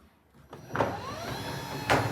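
A motorised roller door, once sticky and ballooning and now re-tensioned, rolls down with a steady motor drone and a couple of clunks from the mechanism, close by and with no speech.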